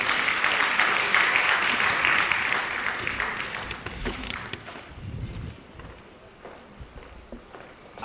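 Audience applause at a ceremony decorating newly promoted officers and men, strong clapping at first that thins out into scattered claps and shuffling footsteps toward the end.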